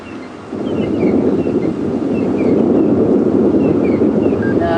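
Steady wind buffets the microphone with a low, rumbling roar on a safari drive at Djuma Game Reserve, while faint distant impala alarm calls come through now and then.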